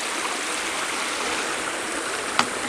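Waterfall on Chestnut Ridge, a steady broad rush of falling water close by, constant and fairly loud, with one brief click near the end and no talk.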